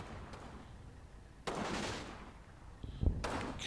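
Gunfire in the wargame Combat Mission, a battle near Aachen: bursts of shots, a sharp crack, then another volley, heard at moderate distance over low ambient rumble.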